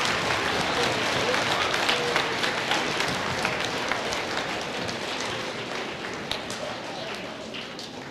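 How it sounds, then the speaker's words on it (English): Sustained applause from a large crowd of students and teachers at a school, dense and steady for several seconds, fading slightly toward the end. "give a round of applause to the students and teachers of Elite Scholars"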